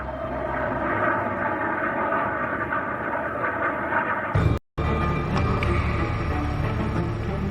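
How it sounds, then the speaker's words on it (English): Aircraft engines of the royal plane at Aberdeen Airport, a loud steady roar close by, broken by a short cut before continuing. "Princes Charles, William and Harry boarded the royal plane at Aberdeen Airport"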